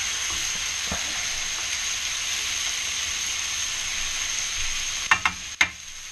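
Steaks coated in peri peri rub sizzle loudly and steadily in a cast iron skillet, a close, continuous hiss with a few sharp pops and clatters near the end.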